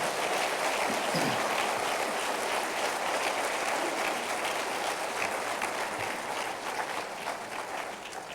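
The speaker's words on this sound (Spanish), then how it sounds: "¿No le das un aplauso a él de alabanza?" Congregation applause of praise at a Christian church service, a dense sustained wash of many hands clapping that carries steadily throughout and eases slightly toward the end.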